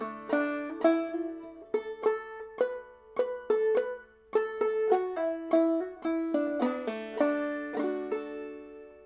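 Clawhammer banjo picking measures of Cumberland Gap with the brush stroke, bright plucked notes and strummed chords in a steady bouncing rhythm, close and clear with no talking.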